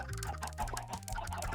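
Minecraft chickens cluck in a short burst of overlapping, near clucks, fairly quiet, with no talk over them.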